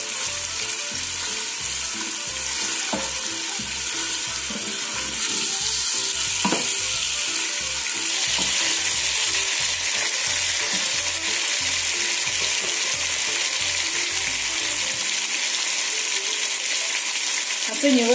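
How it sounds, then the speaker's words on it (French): Meat browning in a pan for a peanut and spinach sauce, sizzling and crackling steadily throughout, with a few stirring scrapes and clinks, close and continuous until a sudden stop near the end. "La viande doit bien dorer."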